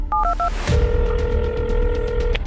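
Several quick phone keypad dialing beeps, then a steady tone rings for a couple of seconds before cutting off; loud and close.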